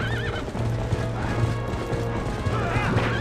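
Horse hooves clip-clop rapidly alongside a whinny and game music in The Legend of Zelda: Twilight Princess HD, with busy effects and a voice mixed in.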